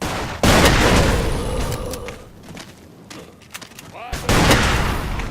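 Gunfire in the block-building shooter game Ace of Spades, a loud burst of rapid shots, a quieter spell with scattered reports, then another heavy burst at the end, while a player speaks excitedly over it.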